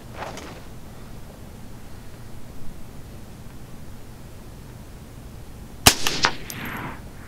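Suppressed gunshots from a Carl rifle fitted with a suppressor ring out outdoors, one sharp report and a quick follow-up crack near the end over faint background noise.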